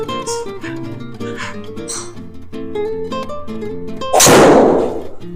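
A golf driver strikes a ball during a hard, powerful swing: one sharp, loud impact crack near the end, after a stretch of music playing underneath.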